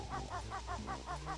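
A bird in the video game Banjo-Kazooie honks repeatedly, about seven evenly spaced goose-like calls in a steady rhythm, loud and close with no talking over them.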